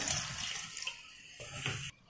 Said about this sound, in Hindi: 1/2 कप पानी ऐड करेंगे